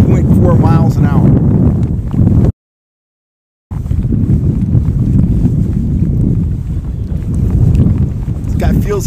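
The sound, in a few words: wind blowing while trolling for trout from a boat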